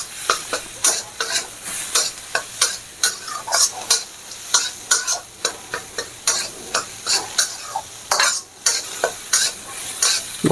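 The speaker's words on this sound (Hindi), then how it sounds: "और इसको हम अच्छे से भून लेंगे। बिल्कुल अच्छे से भूनना है, लगभग 7 से 8 मिनट इसको दाल को" Moong dal being stirred and dry-roasted in a pan for a kachori filling: a steady run of close scraping stir strokes with a faint sizzle underneath, repeating in an even rhythm with no talking.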